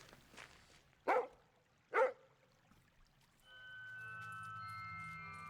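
A dog in a puzzle video game gives two short, sharp barks about a second apart, followed by a quiet pause and then sustained, steady musical tones.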